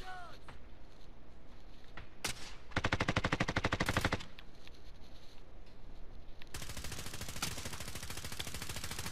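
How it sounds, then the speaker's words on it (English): A video game shootout with sustained bursts of rapid automatic gunfire, close and loud, rattling continuously through most of the clip and intensifying in two heavy stretches over a constant backdrop of game noise. "We're getting shot from the left or the right of it."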